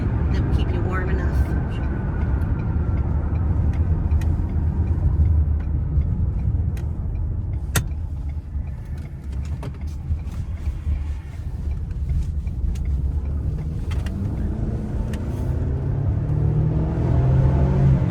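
A car drives steadily with a low, continuous engine and road rumble, while people talk in the cabin over the hum.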